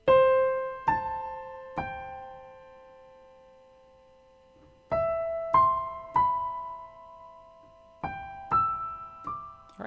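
A keyboard plays a short white-key pattern shifted up two keys, clean single notes and small groups struck in clusters with a pause in the middle, each ringing and fading alone.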